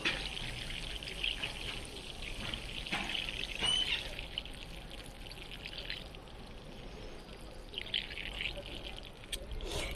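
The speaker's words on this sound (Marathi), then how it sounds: "पूर्ण बुडाला जाईपर्यंत पाणी टाकून घ्यायचं" Water is poured steadily into a grow bag of soil, a soft continuous splashing trickle lasting several seconds with slight surges, heard fairly close and alone.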